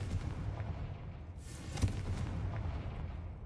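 Confringo, a blasting spell in Hogwarts Legacy, goes off as a muffled explosive burst with a dull boom over a constant rumbling game background, fairly quiet overall.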